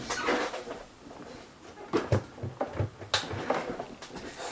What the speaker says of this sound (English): I'm just gonna close the blinds because the sun is shining in the weird angle.